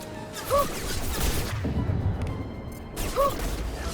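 In Mass Effect 2, weapons fire in sharp bursts during a firefight, with loud cracks clustered around the start and end and a steady battle rumble between them.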